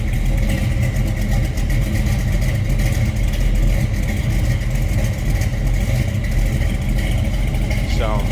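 A 1972 Chevrolet Camaro with a 454 big block V8 idles with a deep, steady rumble close by, the exhaust mild rather than loud, while someone talks over it.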